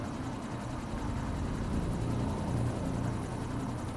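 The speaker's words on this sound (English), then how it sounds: "Hey, look, it's a helicopter." A helicopter in the video game Quantum Break drones steadily with a low, even rotor rumble that holds at a constant level throughout, with no talking over it.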